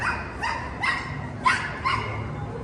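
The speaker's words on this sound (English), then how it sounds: "The dog's jealous." A small dog barks in a quick series of about five sharp yips at a steady rhythm, close and fairly loud, as it tries to mount a bigger dog outdoors in Guanajuato, Mexico.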